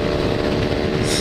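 Motorcycles on a road near Maceió, Alagoas, heard from a rider on a Honda NC700: a loud, steady engine roar with wind rushing continuously throughout.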